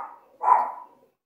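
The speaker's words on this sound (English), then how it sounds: "sorry, my dog is barking" A dog barks once nearby, a short sharp bark after a softer preceding yelp, followed by silence.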